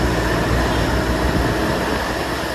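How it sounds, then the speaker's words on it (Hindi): A car's radiator cooling fan runs, a loud, steady broadband whirring rush held close and unbroken from start to finish, with no talking. "मतलब कि गाड़ी का जो है फैन चला हुआ है"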